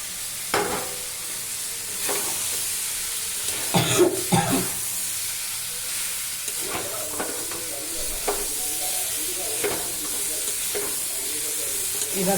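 Fried jackfruit stir-fried in spice paste for a Bengali-style jackfruit and prawn dish, steady close sizzling with repeated scraping stirs and clatter, plus a few coughs and throat clearing, no speech.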